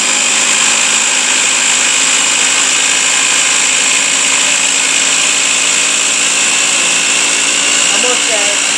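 A food processor motor whirs loud and steady while it chops black olives for tapenade, with a continuous high whine throughout and faint voices underneath.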